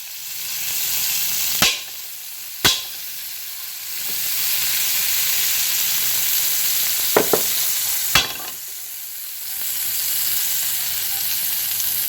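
Bread toasting in butter and margarine in a pan, a continuous close sizzle and frying hiss broken by a few sharp pops and crackles.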